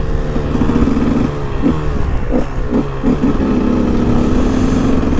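A KTM 125 EXC two-stroke dirt bike fitted with an FMF Shorty exhaust is being ridden on a road behind a truck. Its engine drones steadily and loudly, with a handful of short revving pulses partway through the ride.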